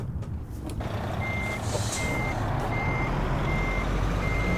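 A long-trailer truck in American Truck Simulator backs up, its reversing alarm beeping in an even repeating pattern over a steady low engine rumble.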